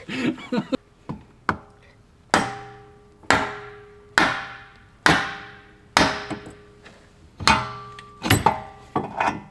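A hammer strikes hard again and again, about a dozen sharp ringing blows at uneven intervals, several loud ones spaced roughly a second apart, each decaying quickly, with no talk over them.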